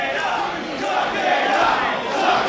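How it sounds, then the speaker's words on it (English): Crowd at a Bloodsport wrestling match between Jonathan Gresham and Masashi Takeda, cheering and chanting for Takeda: a loud, sustained roar of many voices that swells slightly, with no clear speech. "Crowd rallying behind Takeda"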